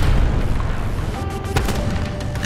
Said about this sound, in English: There's so many damn explosions going on right now.